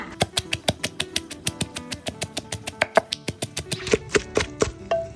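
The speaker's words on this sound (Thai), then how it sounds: "เดี๋ยวเขาจะเริ่มโขลกแล้วนะ" Roasted chili, garlic, shallot and ginger pounded in a mortar for a Lao vegetable soup: a steady run of sharp, close pestle thuds, roughly five or six per second, continuing evenly throughout with no talk.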